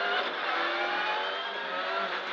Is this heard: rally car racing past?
yes